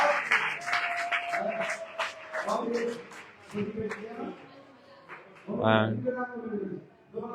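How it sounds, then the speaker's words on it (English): Applause from a devotional gathering during a Bhagavata-saptaha evening program, clapping rising in bursts beneath an ongoing voice, with a louder swell near the end. "Give a big round of applause for all of them."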